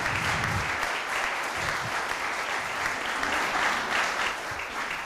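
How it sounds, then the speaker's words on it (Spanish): An audience at a naval history panel event breaks into dense, sustained applause, many hands clapping steadily and loudly throughout with no pause. "Pido a todos ellos un fuerte aplauso."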